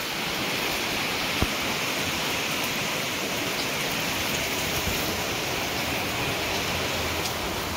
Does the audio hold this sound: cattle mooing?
no